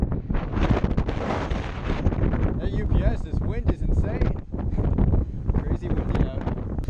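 Wind buffets the built-in microphones of a camera, a continuous loud, low rumbling blast with gusty surges that masks everything else, while a voice talks underneath it.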